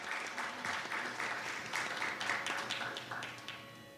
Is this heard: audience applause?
yes